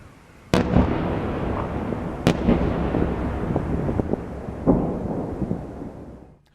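Russian ballistic missile strikes hit Kyiv in three heavy blasts, each a sudden loud crack followed by a rolling, echoing rumble that fades away.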